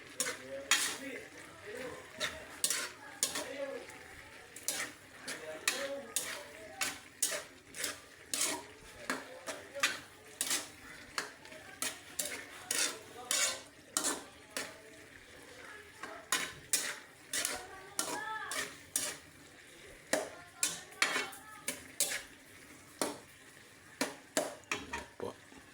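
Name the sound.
stirring unripe banana and moringa leaves in a pot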